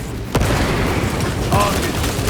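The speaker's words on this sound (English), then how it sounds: "Deploying frag grenade!" A frag grenade explodes in Warhammer 40K Space Marine 2, one sharp, close blast early on, followed by rumbling combat noise and a spoken voice over the din.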